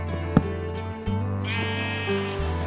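Sheep bleating in the video game From The Fog, a short wavering bleat over a steady ambient hum and game music.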